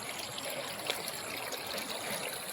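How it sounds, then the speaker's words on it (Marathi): Water streams along a farm irrigation channel fed from a dam upstream. It makes a soft, constant trickling rush, faint and unbroken, with no voices. "आणि हा आमचा पाट आहे, तो वरनं तिकडनं येतो."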